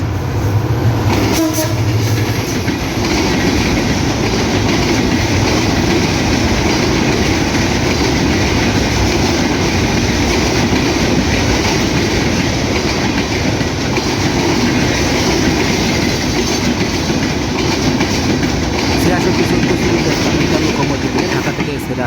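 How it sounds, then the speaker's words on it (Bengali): Banalata Express passenger train running through Muladuli railway station in Bangladesh, a loud continuous rumble and wheel clatter holding steady for the whole stretch, with a brief horn-like burst near the start. "বনলতা এক্সপ্রেস এই মুহূর্তে মেলাডুলি রেল স্টেশন খুব পাস করে চলে যাচ্ছে"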